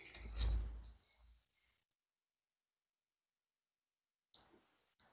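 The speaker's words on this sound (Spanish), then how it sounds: "Esas tijeras de Kai van súper bien." Kai scissors cut through fabric while a flat zippered belt bag is sewn: one short, crisp snipping burst close by at the start, then quiet.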